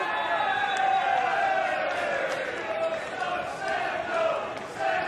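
A football crowd at a Barry Town United versus Pontypridd match cheers a free kick, a distant swelling roar with whoops that rises and falls through the stadium.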